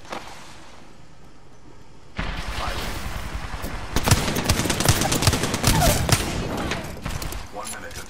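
Gunfire from the battle royale game Apex Legends starts after a quiet opening and builds into dense, loud rapid-fire volleys that peak midway, with game voice lines heard among the shots.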